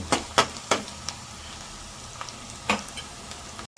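Onions frying in a pan, a steady close sizzle with several sharp taps and scrapes of a spatula against the pan, briefly cut off near the end.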